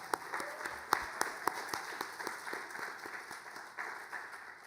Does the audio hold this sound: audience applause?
yes